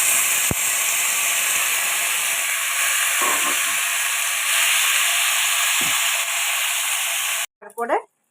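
Chopped bottle gourd hits hot oil seasoned with bay leaf and panch phoron, giving a loud, steady hiss and sizzle that runs unbroken for several seconds before cutting off abruptly.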